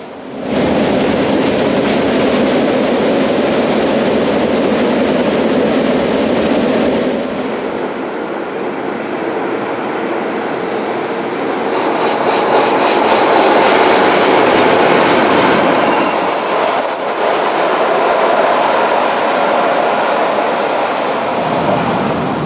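A Rhaetian Railway train with historic and open carriages rumbles steadily along the rails through a gorge, with clattering wheels and a thin metallic squeal rising partway through, close and loud throughout.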